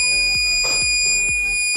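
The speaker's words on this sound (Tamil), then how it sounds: "இந்த அலாரம் சூப்பராக வேலை செய்யுது." A loud, continuous high-pitched electronic alarm tone from a homemade DIY security alarm rings steadily, with a few low thumps and a brief rattling noise mixed in.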